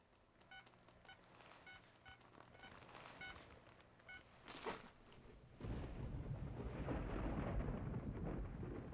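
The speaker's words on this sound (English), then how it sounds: "There's a storm coming in." An approaching storm brings thunder. Quiet beeping tones give way to a loud, rolling low rumble that fills the second half.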